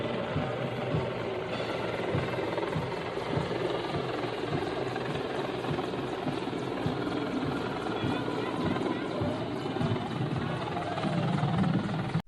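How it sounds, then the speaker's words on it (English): A helicopter flies low over a parade, its rotor and engine making a dense, steady roar throughout, with speech over it. "This helicopter accidentally blows down VIP podium in a parade."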